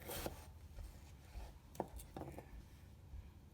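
A knife slices food on a cutting board in a quiet setting, producing a few sparse, faint cuts and light scraping taps spread over a few seconds.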